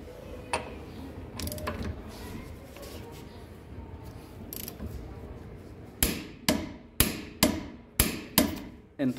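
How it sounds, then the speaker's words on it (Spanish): A torque wrench gives seven sharp, evenly spaced metallic clicks close up while tightening a rear wheel hub bearing, after several seconds of low workshop rumble, with a couple of fainter knocks earlier. "ese es el ruido que tenemos que escuchar si lo hacemos con el torquímetro"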